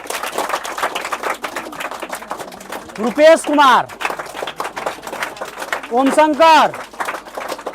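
Classroom students clap in a steady, scattered patter that runs underneath a teacher's voice reading out names.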